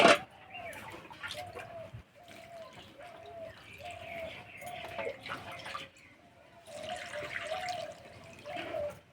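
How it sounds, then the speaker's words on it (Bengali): Freshly picked jute leaf greens are rinsed by hand in water, producing intermittent close splashing, dripping and sloshing in uneven bursts, with faint chirping tones in the background. "এবার শাকগুলো ধুয়ে নেবো"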